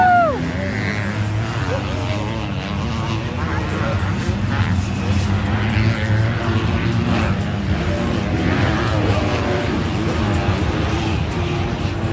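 A racing car sets off on a lap at the French Grand Prix, its engine droning at a distance under constant wind and crowd noise, while a commentator speaks French throughout.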